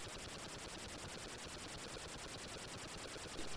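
Rapid automatic gunfire from a Commodore 64 video game, a steady, continuous stream of evenly spaced electronic shots running throughout at constant loudness with no talking.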